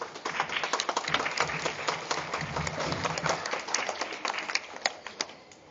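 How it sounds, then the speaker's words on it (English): A school honor roll assembly audience claps for a staff member being welcomed up, a dense, steady round of hand clapping from many people in a hall that carries on for several seconds. "we're going to welcome with a nice hand clap Ms. Mansell"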